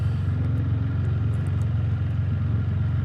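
A Can-Am Spyder F3 three-wheel motorcycle's engine drones steadily while riding, a close, loud, even low rumble with wind noise and no talk.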